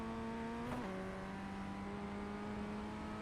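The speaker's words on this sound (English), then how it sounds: "now we're getting back up on the gas really early on in the corner" A Formula Ford 1600 race car engine in iRacing on the Summit Point Jefferson circuit holds a steady droning note, dips briefly in pitch, then pulls smoothly and continuously, faint and alone.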